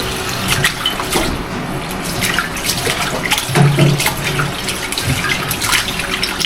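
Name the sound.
washing pork meat under running tap water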